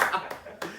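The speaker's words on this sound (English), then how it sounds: "I should clap for you" Two or three sharp, close hand claps ring out among people chatting and chuckling on a podcast.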